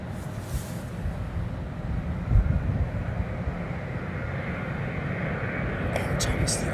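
Boeing 777, the oldest one still flying, at London Heathrow Airport: a steady, broad jet roar heard from a distance, slowly building, with faint voices in the background.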